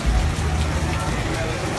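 Steady rain falls through an Austin night as a dense, even hiss of drops with a low rumble beneath, unbroken from start to finish.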